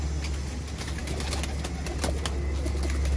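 Pigeons kept in a loft give soft coos and faint wing flutters under a steady, dense background hiss, with no talking.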